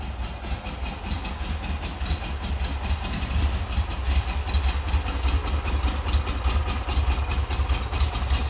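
A 1973 VW GT Beetle air-cooled engine idles steadily with exhaust air leaks partly fixed and a cap over the preheat, a continuous close rumble with a fast even ticking pulse and no talk.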